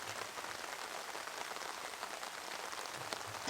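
Steady rain hisses across an outdoor disc golf course at the Nantucket Disc Golf Open, a soft, even patter of drops with no voices.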